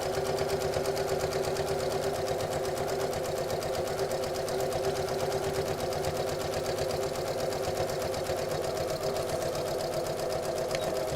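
Sewing machine stitches steadily and rapidly along the curved seam of a stuffed bunny, a continuous close mechanical hum with an even needle rhythm and no speech.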